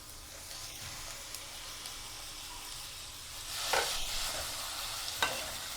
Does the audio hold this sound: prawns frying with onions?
yes